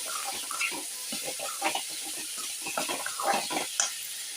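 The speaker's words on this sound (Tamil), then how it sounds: "கத்திரிக்காயும் சேர்த்து நல்லா அதில் வதக்கிக்கலாம்" Brinjal and tomato sauté in a pan for a Tamil poriyal, a soft continuous sizzle with irregular stirring scrapes and clicks, close and fairly quiet, with no voice over it.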